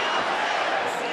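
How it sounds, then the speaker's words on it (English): Boxing arena crowd in Birmingham, Alabama at a heavyweight bout, a loud, steady wash of roaring and cheering voices that fills the space without a break. "This crowd is electric here in Birmingham, Alabama."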